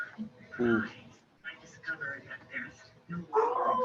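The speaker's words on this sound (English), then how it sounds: "That's my dog. Oh, he hears somebody outside the door." A dog indoors whimpers and yips repeatedly at someone outside the door, the short cries mixed under and between a person's talking.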